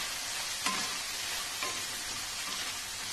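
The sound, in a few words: potatoes and peas frying in oil in a wok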